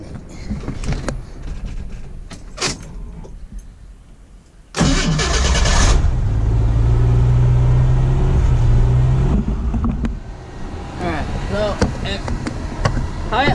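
A 1987 Jeep YJ engine cranks for a few seconds, then catches with a loud burst and settles into a steady, close idle that wavers slightly near the end. A voice is heard faintly in the background.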